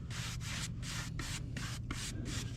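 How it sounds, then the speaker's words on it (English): A brush sweeps sawdust off freshly sawn lumber in quick, rhythmic strokes, about eight close, scratchy swipes with short gaps between them and no talking. "brush off all the sawdust on it"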